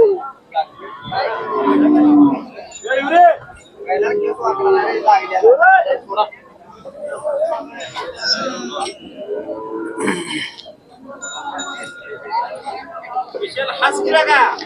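Khillar cattle low now and then at the Sangola cattle market in Solapur, Maharashtra, their moos mixed into a busy outdoor scene of crowd chatter while someone talks close by.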